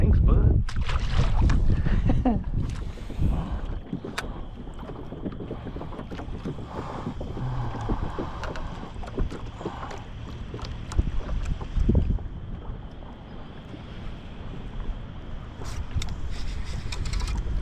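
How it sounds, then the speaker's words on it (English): Wind gusts buffet the microphone over a lake while fishing from a boat, a loud rumbling roar that rises and falls throughout, with water slapping and a person speaking underneath. "And that wind jumps out of nowhere."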